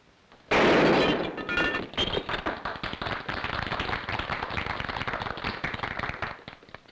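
Gunfire from trick shooting at thrown targets in a Western film, a loud sharp blast at the start followed by a rapid crackling series of quick cracks and reports.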